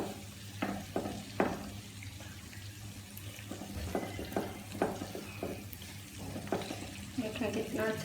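Chicken roast being stirred in a pan, with soft scraping and stirring strokes over a steady low sizzle and a few clinks, heard up close with no one talking.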